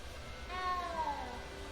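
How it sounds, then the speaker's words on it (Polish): A small cat in Hogwarts Legacy lets out a single drawn-out, rising-and-falling meow, loud and close, over a low background hum. "You don't need to be frightened, little cat."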